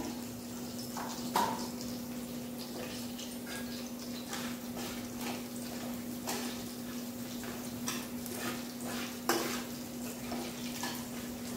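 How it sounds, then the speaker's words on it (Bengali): Kalo jeera (nigella seeds) tempering in hot oil for a light fish curry, a steady soft sizzle with a constant hum underneath and occasional clicks and scrapes of a spoon against the pan. "মাছের ঝোলটা বসাবো, ফোড়নে দিয়ে দেবো কালো জিরে"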